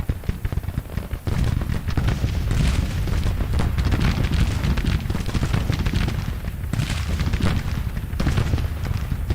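Massed musket and cannon fire pours onto Hood's troops in Grand Tactician: The Civil War, a dense, continuous rumble of overlapping booms and cracks that stays loud and unbroken for the whole stretch, with no voices.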